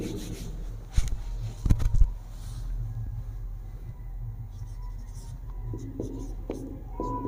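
Pen or marker writing out a cost formula for a Hindi economics lesson, a steady soft scratching across the surface with a few louder taps and strokes near the start, over a low background hum.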